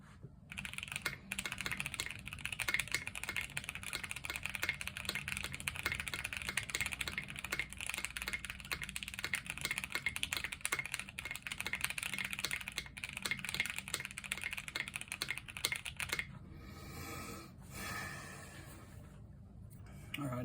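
Rapid, continuous clacking of a mechanical keyboard being typed on quickly during a typing test, close up, then stopping near the end as a faint voice speaks.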